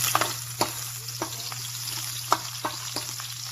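Garlic for chicken adobo sizzling in hot oil in a pan, a steady crackling fry broken by a few sharp clicks of a utensil stirring against the pan.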